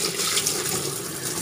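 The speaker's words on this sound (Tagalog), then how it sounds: "lagyan natin ng tubig" Water runs steadily into a washing machine drum being checked for a faulty auto drain valve, a continuous close splashing pour with no talk.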